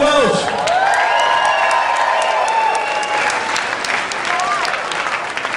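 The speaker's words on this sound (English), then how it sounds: "Give him a big applause." Conference audience applauding a speaker, a loud dense burst of clapping with some scattered whoops that holds steady before easing slightly at the end.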